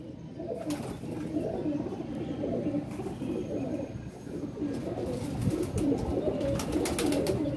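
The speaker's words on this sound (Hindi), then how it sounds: "जोड़ों वाली कबूतरियाँ" Pigeons coo steadily and close by, low rolling calls overlapping continuously with faint rustling in the background.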